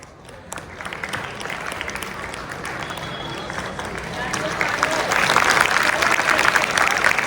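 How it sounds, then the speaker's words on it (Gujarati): An audience applauds during a prize distribution at a high school farewell event. Steady clapping with crowd murmur grows louder and fuller in the second half. "તાળીઓનો ગડગડાટ આપણે પણ ચાલુ જ રાખવાનો છે"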